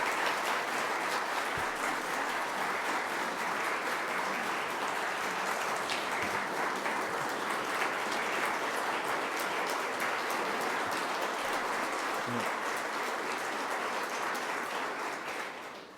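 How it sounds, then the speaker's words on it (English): An audience at a county executive's budget presentation claps steadily for about sixteen seconds, a dense, even wash of applause that fades slightly at the very end. "Please recognize Sue and give her a round of applause."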